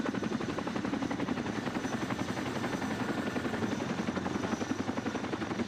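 A helicopter in the military video game Arma 2 thrums steadily with a fast rhythmic rotor chop, fairly close and continuous throughout, with no talk over it.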